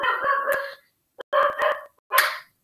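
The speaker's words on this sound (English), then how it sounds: "sorry about the dog" A real dog barks in short close bursts, a few rapid yaps in each group, with quiet gaps between them during an online community round-table call.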